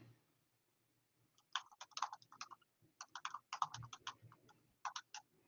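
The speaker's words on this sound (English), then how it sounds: "I hear you typing." Soft, rapid typing on a computer keyboard comes in uneven bursts of clicky keystrokes with short pauses, fairly close and quiet, heard alone over a faint low hum.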